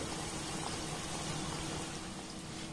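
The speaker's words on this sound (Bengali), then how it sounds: "একইভাবে সবগুলোকে আমি ভেজে নেব।" Atta flour biscuits frying in hot oil, a continuous dense sizzle and bubbling that stays steady and close throughout, with no talking.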